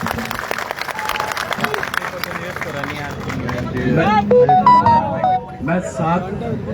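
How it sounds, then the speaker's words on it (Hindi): A crowd of students at a public event claps loudly for the chief minister, a broad wash of applause mixed with hubbub and chatter, growing louder toward the end as voices and cheers rise. "एक बार जोरदार तालियां मुख्यमंत्री जी के लिए।"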